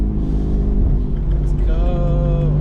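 Porsche 981 Spyder engine revs loud and close from inside the car, a steady low rumble with a rising harmonic whine near the end.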